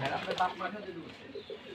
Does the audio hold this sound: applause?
no